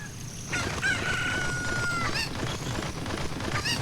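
Chicken from the video game The Legend of Zelda: Ocarina of Time, giving a drawn-out rooster-like crow followed by a few short squawks over continuous game background music, with no talking.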